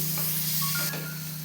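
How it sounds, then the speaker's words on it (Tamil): Chana dal sautéing in oil for cabbage poriyal gives a loud, steady, close hiss and sizzle that fills the short stretch, with a faint whistle-like tone partway through and no talking. "கடலப்பருப்பு போட்டு நல்லா வதக்கிங்க."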